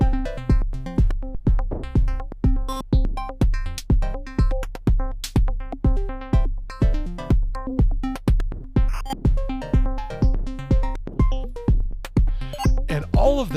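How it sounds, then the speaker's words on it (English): A Mutable Instruments Plaits synth oscillator, spanning both sides, pumps out a steady drum-like pattern of punchy low thumps and clicky hits at an even tempo, loud and dry, with tonal pitched layers on top. "And all of that sound is coming from a single oscillator."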